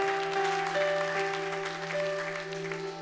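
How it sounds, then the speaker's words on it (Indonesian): A church congregation claps in a soft, steady patter, faint and distant, beneath sustained organ or keyboard tones during a service. "Come on, berikan tepuk tangan"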